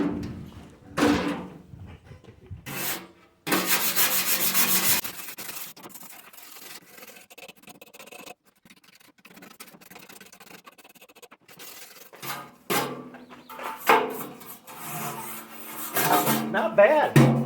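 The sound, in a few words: brushing rust off an old metal school desk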